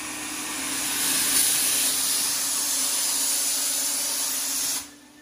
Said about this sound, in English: So you can see the spray pattern.